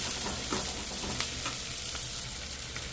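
Onions fry in a pan for an Andhra-style chicken fry, a constant close sizzle with soft stirring scrapes recurring throughout, no voices.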